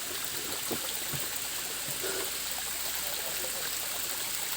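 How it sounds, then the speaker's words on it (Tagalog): A waterfall flows in a steady, rushing hiss near its base, a constant broadband wash of water with no pauses and faint scattered knocks underneath. "Dito lang kami yan sa dulo ng talon"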